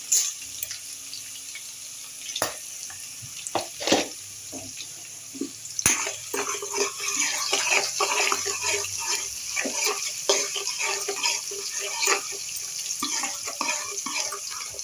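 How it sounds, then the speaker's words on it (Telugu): Fenugreek seeds crackle and sizzle in hot oil for an ivy gourd curry, with scattered sharp pops and spits over a light steady hiss. "ఇవైతే మంచిగా వేగుతున్నాయి కదండి"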